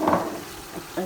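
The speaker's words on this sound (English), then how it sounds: "So now we are going to add the blended tomatoes" Blended tomatoes hit hot oil for jollof rice and sizzle loudly up close, with a strong frying hiss that settles and then flares briefly again.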